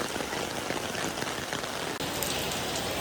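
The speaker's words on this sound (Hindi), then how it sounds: "क्या ही बारिश हो रही है।" Heavy rain pours steadily at Kalighat's Adi Ganga ghat beside the temple in Kolkata, a dense, continuous hiss of drops on surfaces close by, with no voices.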